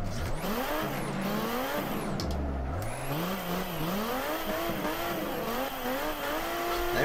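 Engine revving of a Nissan Skyline R32 drifting on Meihan Circuit in Assetto Corsa, with rising and falling revs, gear shifts and screeching tires, loud and continuous.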